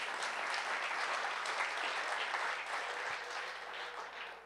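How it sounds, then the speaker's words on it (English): Applause from the audience at a Clean Water Act anniversary members meeting, honoring volunteer water reporters; a fairly quiet, even wash of many hands clapping throughout, heard from some distance. "Let's give these people a round of applause."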